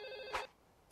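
A single short telephone ring sounds faintly, followed by quiet and a brief click.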